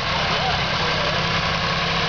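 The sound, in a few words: antique tractor engine running in a show parade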